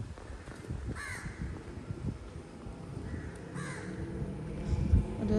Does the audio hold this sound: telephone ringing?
no